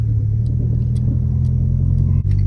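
A 2012 Subaru Outback with a newly replaced rear subframe drives along with a steady, loud low engine and road rumble, a brief dip near the end, and no talking.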